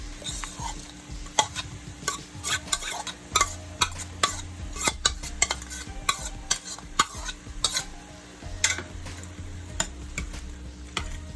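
Carrots and green beans being stirred into meat in a cooking pot while making shepherd's pie, with repeated scraping and clinking of a utensil against the pot over a steady low sizzle, close and moderately loud, no talking.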